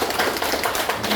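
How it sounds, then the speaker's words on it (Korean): A church congregation claps briefly during a Sunday morning service, a short patter of soft, diffuse hand claps in a reverberant room. "우리 박수를 한번 하네요."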